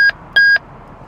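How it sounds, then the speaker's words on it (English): Two sharp electronic beeps from an analog two-way radio handset, a short one then a longer one, loud and close over a faint background hiss. "That beeping is annoying."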